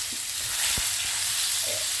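Meat frying in a hot pan and being stirred, a constant close sizzle with a few soft scraping knocks from the stirring and no talking.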